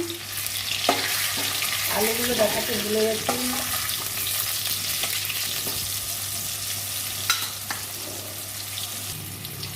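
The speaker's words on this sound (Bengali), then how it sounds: "কড়াই আমি আলু দিয়ে দিলাম" Potatoes frying in mustard oil in a wok, a steady close sizzle with brief stirring and clinks, while someone talks over the cooking.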